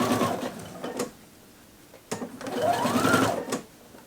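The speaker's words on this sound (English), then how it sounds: "Making sure now I'm sewing between a lot of thicknesses." Sewing machine stitching slowly through thick dress layers of collar, lapel facing and bodice, running in two bursts with a pause between, close and steady, with no talking.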